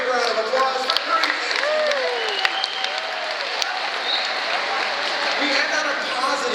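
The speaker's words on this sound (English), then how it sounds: "Have a big round of applause for Cree." Audience at a Shedd Aquarium dolphin show applauding steadily after the dolphin's jumps, a dense sustained clatter of clapping with crowd noise and whistle-like tones sweeping through, some voices mixed in.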